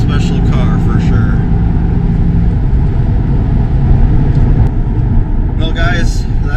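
A 2022 Chevrolet C8 Corvette convertible drives along with a steady, loud engine and road rumble throughout, while someone talks over it.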